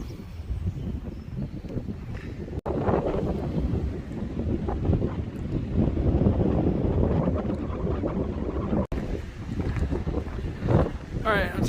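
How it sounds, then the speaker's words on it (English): Strong wind gusting over a mountain overlook on the Appalachian Trail, a loud, continuous roaring buffet against the microphone that swells and eases across the clip, with a voice briefly under it. "super windy though"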